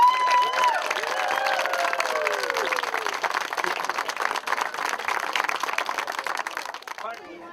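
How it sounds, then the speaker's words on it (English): A crowd at a rocket derby and helicopter landing claps and cheers loudly and steadily for the crew, with a few voices calling out over the applause before it fades at the end. "let's give them a big round of applause"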